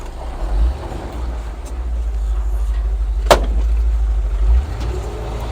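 A 1964 Ford F100 pickup with a 302 small-block V8 and Pertronix cast distributor pulls hard, a steady low engine drone heard from inside the cab, with a brief sharp tick partway through.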